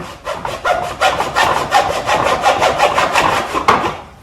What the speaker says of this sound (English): Wood saw opens it up enough for your hacksaw to get in.